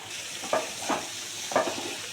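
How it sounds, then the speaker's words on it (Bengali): Fried pointed gourd sizzling in a pan of cooked-down spice paste, with a steady hiss and two or three distinct scraping stirs of a spatula, close and moderately loud, no talking. "পটল ভাজাটাও দিয়ে দিলাম।"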